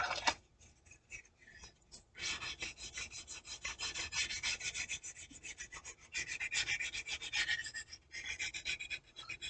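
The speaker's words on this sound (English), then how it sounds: "Use the sanding board right here." Steady rasping strokes of a sanding board against a plastic 1/18th scale SBD Dauntless model aircraft part, quiet and close, back-and-forth scratching in uneven bursts with no talking.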